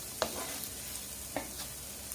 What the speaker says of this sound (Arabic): بقلب الثوم لغاية ما تطلع له ريحة كويسة